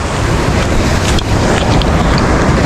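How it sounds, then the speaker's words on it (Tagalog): Big ocean waves roll and roar around a small boat at sea off Palawan during night light fishing, a loud, unbroken wash of water and wind rumble close to the microphone. "Yan na, may malaking alon."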